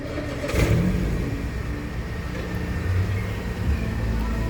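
A Mercedes A160 engine revs up and holds a steady, loud drone near the microphone, with a brief surge early on and a mild swell later, a faint whir running beneath.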